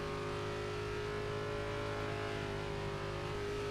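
Race car engine in a racing video game, an old stock car sound model from the Xfinity or Nationwide car, droning at a steady high pitch with sustained tonal whine, loud and unbroken.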